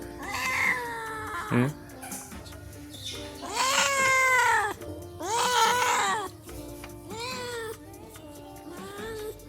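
A cat meows repeatedly and insistently indoors, with long drawn-out wails and shorter calls in between, loud and close against a quiet room.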